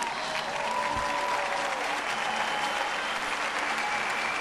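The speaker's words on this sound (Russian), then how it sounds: "Судя по каким-то вялым аплодисментам" Sustained, fairly even applause from an arena crowd after a synchronized swimming free routine by the Spain team at a 2007 World Cup in Brazil, steady clapping filling the whole stretch without voices on top.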